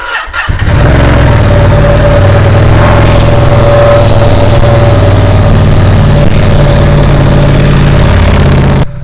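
A 2022 Ducati 1260 S Black & Steel motorcycle fires up and settles into a loud, steady, close idle as it warms up, with the engine running alone and no talking.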